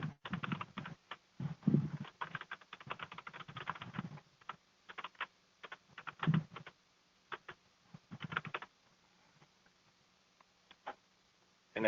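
Computer keyboard typing during software admin work, bursts of quick clicky keystrokes separated by short pauses, close and fairly quiet with no talking.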